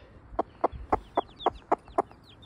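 An American Gamefowl hen gives a steady series of about eight soft, evenly spaced clucks up close, while a chick's thin high peeps chirp between them.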